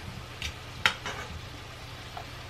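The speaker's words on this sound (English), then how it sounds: "I'm gonna go ahead and add the tomatoes and chilies that I boiled earlier" Boiled tomatoes and chilies, jalapeños and serranos, go into a hot pan of carne con papas and are stirred, giving a soft steady sizzle with a brief clatter near the start.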